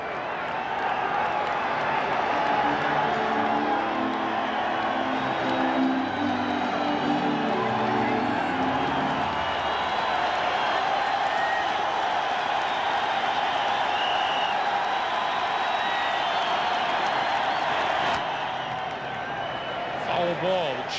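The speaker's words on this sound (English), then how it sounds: "The cheering you heard, White Sox fans." A packed baseball stadium crowd roars and cheers as the White Sox host the Blue Jays in the 1993 American League Championship Series Game 6, a sustained, wide wash of cheering with voices mixed in, heard from a distance.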